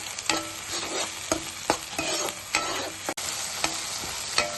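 Tomato paste for an aloo methi curry sizzles and fries in oil in a pan, with a steady crackle broken by repeated scraping stirs of a spoon.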